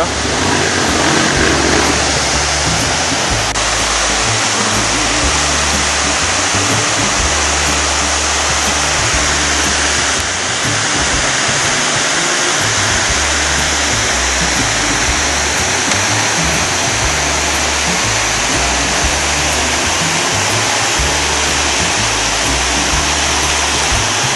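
Loud, steady rushing river water at a crossing on the Trans-America Trail, a broad roaring wash that fills the whole clip with constant churning and low rumble, close and unbroken.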